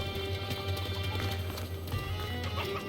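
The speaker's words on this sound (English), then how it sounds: "There's a horse." Horse hooves clop steadily in the medieval combat game Mordhau, a continuous trotting rhythm heard up close through a busy city marketplace with other ambient game noise around it.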